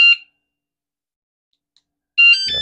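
Bicycle alarm blaring in two loud bursts of electronic tones, a short one at the start and a longer one near the end, with silence in between.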